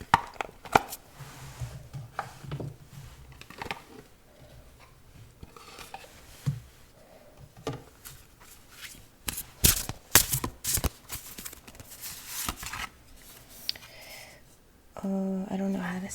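Cards are pulled and shuffled from an African Gods Oracle deck, with sharp papery flicks, slaps and rustles in irregular bursts close to the microphone, while a person speaks softly between the handling sounds.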